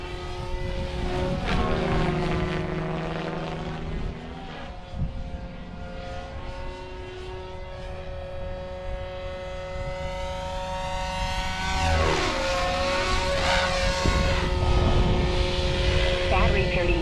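A Goblin 500 RC helicopter flies continuously nearby, its steady high-pitched rotor and motor whine rising and falling in pitch as it maneuvers, with a voice speaking over it.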